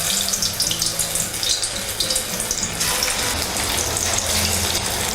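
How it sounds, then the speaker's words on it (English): Dense, crackling sizzle of Chicken 65 pieces frying in hot oil, steady and close throughout with no talking. "we shall start frying the chicken"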